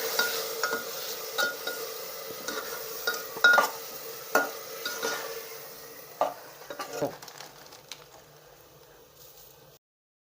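Masala and onion being sautéed in a pan for veg biryani, with a soft sizzle under irregular spatula scrapes and clinks against the metal, the stirring tapering off toward the end.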